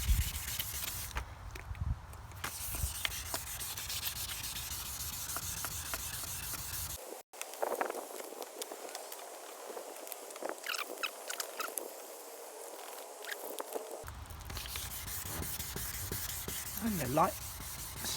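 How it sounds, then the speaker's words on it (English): Plastic car headlight wet-sanded by hand with sandpaper and water, a close, steady rubbing scrape in repeated strokes, broken by a pause of near silence in the middle before the strokes resume. "sanding it needs, just to take the top off"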